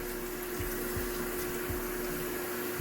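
Water running steadily from a tap while shampoo is rinsed out of short hair kept in 360 waves, a continuous close splashing flow with low thumps under it.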